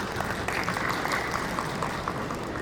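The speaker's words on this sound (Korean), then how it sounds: "네, 다시 한번 큰 박수 보내주시기 바랍니다." Audience at a smart-factory seminar applauding a speaker, a dense, even wash of clapping held at a steady moderate loudness throughout.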